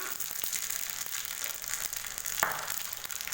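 Mustard seeds splutter in hot oil, a steady sizzle with scattered sharp pops and crackles, close and fairly quiet, with no voices.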